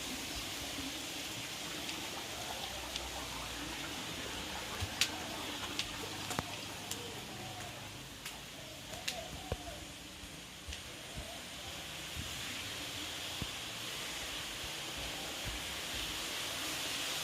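Narmada river water pouring steadily over a Shiva lingam at a temple in Mandu, a continuous close wash of flowing water with scattered small splashes and no speech.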